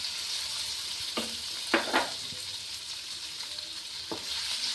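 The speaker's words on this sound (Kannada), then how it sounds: "ಇದನ್ನು ಪನ್ನೀರನ್ನ ಎಣ್ಣೆಲಿ ಚೆನ್ನಾಗಿ ಫ್ರೈ ಮಾಡಿ" Paneer cubes frying in hot oil in a pan, a steady close sizzle with a few brief clicks of a utensil stirring, no voices.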